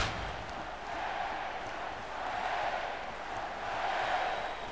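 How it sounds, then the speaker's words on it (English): A crowd roars in the SMITE arena battle, a broad sustained wash of cheering that swells and fades in waves at moderate level, with no speech over it. "can you hear the crowd?"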